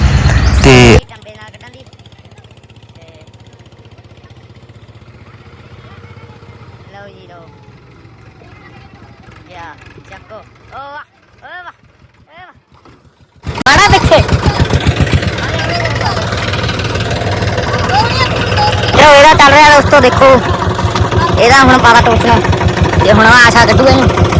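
A tractor engine runs while the tractor is stuck in a field: a steady low idle with voices over it, then a much louder, harder-working engine roar with people talking and shouting from about halfway on.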